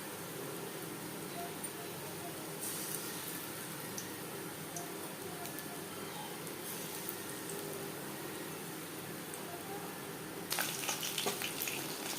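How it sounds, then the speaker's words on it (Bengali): Pakoras for chilli chicken fry in hot refined oil, a soft, constant crackling sizzle heard close but fairly quiet, with a brighter burst of spattering toward the end. "এবার আমি চিলি চিকেনের জন্য পাকোড়া ভেজে নেবো"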